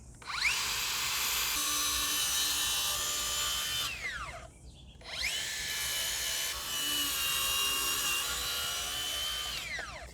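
A power saw cutting through wooden deck boards, a loud, sustained whine that dips and winds down briefly before spinning up again for a second long cut.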